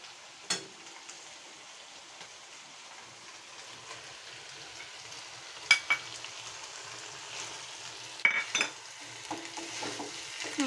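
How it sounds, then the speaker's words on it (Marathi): A spoon stirs grated potato into sugar syrup in a pan while making coconut vadi, giving faint, sparse scrapes and occasional sharp clinks against a quiet background, with no talk. "हे सगळं एकजीव करून घेऊया आपण"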